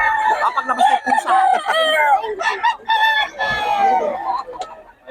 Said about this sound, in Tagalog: Diyan na pala manok si Boss Berry.